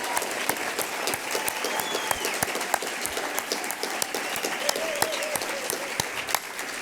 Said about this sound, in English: An enormous round of applause,